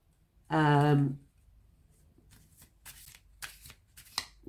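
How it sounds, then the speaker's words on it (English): A short spoken phrase, then soft, quick riffling and flicking of tarot cards being shuffled in several brief bursts, close by. "So I am shuffling"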